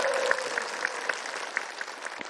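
Studio audience applause on an Indonesian health talk show, a steady wash of many hands clapping at moderate level throughout, with no talk over it.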